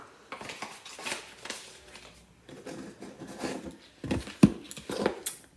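A Jeffree Star Jawbreaker Mini makeup palette snaps shut with a couple of sharp plastic clicks near the end, after soft handling and rustling.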